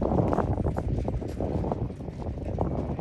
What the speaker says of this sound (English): We're getting a good gust.